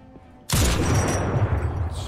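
A sudden loud blast of gunfire in Crysis Remastered bursts in after a quiet moment, booming and heavy, then rings out as a dense rumbling roar that lingers to the end.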